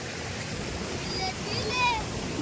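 A rain-swollen stream in Konkan rushes past after a night of heavy rain, a steady broadband roar of flowing water at moderate distance, with brief bird calls chirping over it.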